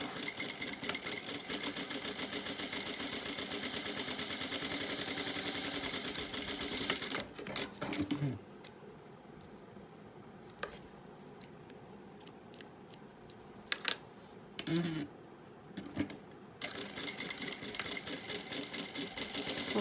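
A sewing machine stitches fabric for a table runner in a steady, close whirring run that stops partway through, followed by quieter handling noises, then the machine starts up again near the end.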